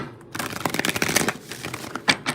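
A deck of cards is shuffled up close, a quick run of crisp riffling flutters followed by a couple of short snaps.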